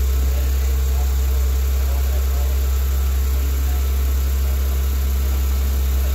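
A 2015 Lexus RC 350 engine idles steadily, a low constant hum with faint mechanical whir, close and even throughout with no clear start burst.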